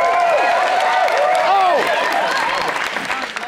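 A studio audience on a game show bursts into loud, sustained applause and cheering that slowly fades, with vocal whoops and calls rising above the clapping.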